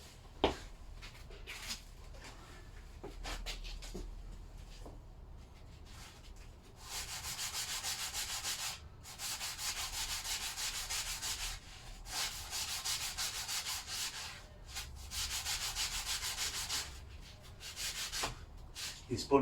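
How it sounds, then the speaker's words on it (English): A spongy sanding block scrubs paint off the parts of a Lister D stationary engine, giving close, rhythmic bursts of harsh rasping strokes with short pauses between them and no talk. "These spongy sanding blocks are great for kind of getting into grooves."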